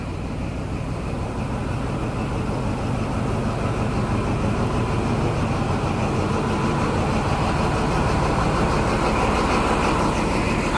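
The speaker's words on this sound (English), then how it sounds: "We're now just going to enjoy the sound of the VP185 engine." The VP185 diesel engine of a Midland Pullman train idles in a steady, loud, throbbing drone that holds unbroken from start to finish, heard close up.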